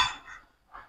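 Lid or cover going onto a pot of oil set in a water bath, a brief clinking metallic scrape followed by a softer second clink, close and quiet with no talk.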